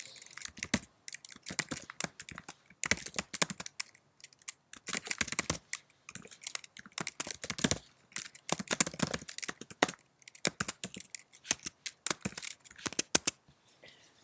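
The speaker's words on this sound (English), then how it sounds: "I will be relatively quiet when I'm typing the program" Steady, quick keystrokes on a computer keyboard while a program is typed, clattering in irregular bursts with brief pauses, close and fairly quiet, with no talking.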